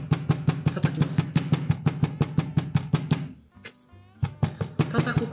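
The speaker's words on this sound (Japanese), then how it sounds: "叩くことで、お肉を柔らかく、味も染み込みやすくします。" Rapid, steady thuds of a knife's back pounding chicken meat on a board, about twenty blows, then a brief pause before more pounding resumes.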